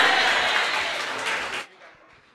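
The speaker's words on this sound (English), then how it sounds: "How about one more round of applause for him and a big amen?" Audience applause at a church youth choir concert, a dense wash of clapping that holds for about a second and a half, then cuts off abruptly, leaving only faint room noise.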